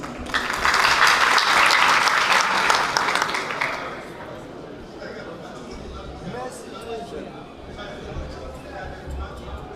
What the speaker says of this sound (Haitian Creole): Sous applaudissement